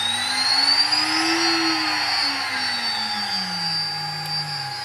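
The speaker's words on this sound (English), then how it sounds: "So you could hear the pitch of the spindle changing as the speed was increasing or decreasing." CNC machine spindle on a Phoenix controller running at variable speed, a loud steady whine whose pitch rises and falls smoothly through the clip, with no voices.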